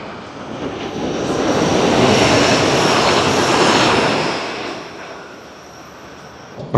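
A metro train rumbles through Alexanderplatz station in Berlin, a broad roar that builds over a couple of seconds, holds steady, then eases back toward a quieter hum, with no talking.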